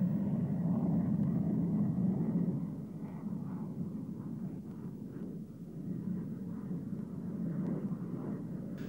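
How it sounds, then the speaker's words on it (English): An Antonov AN-124 makes a low-level pass at an air show, its engines a broad, rumbling roar that eases slightly after a few seconds and then drones on steadily at a distance. "This is an Antonov AN-124 being put through its paces in a low-level flight routine"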